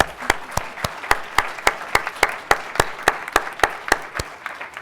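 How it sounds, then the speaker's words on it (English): Audience applause for award-winning teams at a session, a dense wash of clapping with regular sharper claps standing out, steady and fairly close for about five seconds. "A round of applause for these teams."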